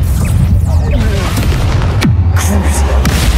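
A Bombarda blasting spell goes off in the Hogwarts Legacy video game, loud booms and crashes with a sharp impact midway through a hectic duel, with voices shouting over the blasts.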